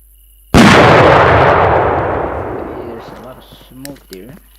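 An XXL firecracker in the video game Fireworks Mania goes off in one sudden loud blast. The boom decays over a few seconds into a rumbling tail, followed by faint crackles and short tonal blips.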